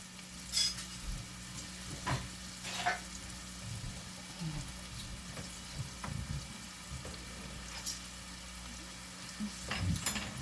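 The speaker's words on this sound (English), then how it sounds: "So we're just going to fry these until they get transparent." Samosa filling sizzling gently in a pan while being stirred, a faint steady fry with occasional soft scrapes and clinks.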